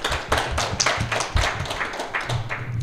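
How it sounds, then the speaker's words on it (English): A few people clap unevenly and sparsely for guests at a technology panel at Keenevention 2015. The claps are close and distinct, with no talking over them. "Let's give a quick round of applause for the guests that are here"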